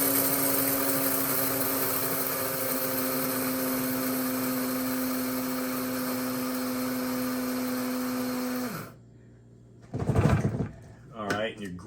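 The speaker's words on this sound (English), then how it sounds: "let's grind up the first batch here" An electric grinder whirs loudly and steadily while coarsely grinding coffee beans for cold brew, then the motor winds down and stops, followed by someone talking and some handling clatter.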